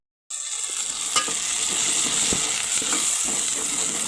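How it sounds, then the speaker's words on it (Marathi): Vegetables with masala sizzle steadily in a hot pan, joined by occasional scraping clicks from the stirring spoon, loud and close throughout with no talk. "पूर्ण मसाला याच्यात टाकून दिला मी ताटातला आणि चांगला असा परतून घ्यायचा"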